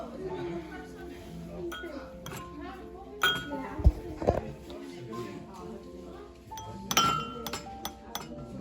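Glass Christmas ornaments clink and tap against each other in a few sharp bursts, close by, while people talk quietly around them.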